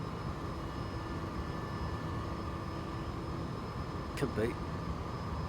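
Light aircraft engine droning steadily in flight as the throttle is eased back near maximum speed, a constant broadband cabin roar with faint hum, while people talk briefly over it.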